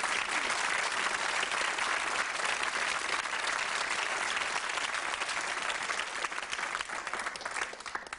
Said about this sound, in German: Applaus wird Sie begleiten.